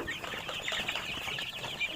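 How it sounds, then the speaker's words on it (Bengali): Tiger breed chicken chicks chirp and peep continuously in a small group, close by and fairly quiet. "এই বাচ্চাগুলো অরিজিনাল টাইগার মুরগির বাচ্চা"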